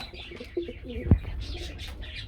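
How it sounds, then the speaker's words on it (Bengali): Soft, low cooing from a pair of Mumbai pigeons close by, with a few chirps and a brief thump, against faint background noise. "এই মুহূর্তে এখানে দেখতে পাচ্ছেন খুব সুন্দর একজোড়া মুম্বাই কবুতর রয়েছে"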